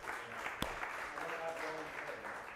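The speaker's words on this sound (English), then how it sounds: "So let's give Dan a round of applause for this bit." A modest round of applause from the audience at a data innovation presentation wrap-up, soft and fairly quiet, with one sharp clap standing out.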